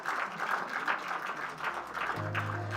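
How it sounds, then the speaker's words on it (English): An audience claps at the inauguration of the Mysuru Literature Festival, a moderate, even spread of applause with a low steady hum entering near the end. "A big round of applause"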